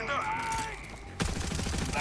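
Red grenades burst in a video game, a rapid cluster of sharp blasts crackling after a stretch of busy background effects, loud and close.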